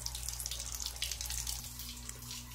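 Steady rush of water draining from an old household water heater during its replacement, a continuous close hiss with a low hum underneath, no voices.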